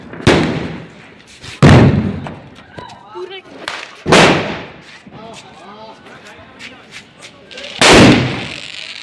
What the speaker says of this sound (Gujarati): મોટો બોમ્બ લાવ્યો આજ.